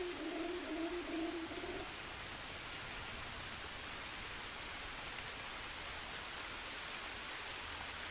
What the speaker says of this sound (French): Il pleut.